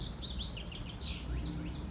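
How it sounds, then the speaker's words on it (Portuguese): Birds fighting, a flurry of quick, high chirps and sharp tweets over a low background rumble, fairly close and moderately loud. "Uma briga entre pássaros."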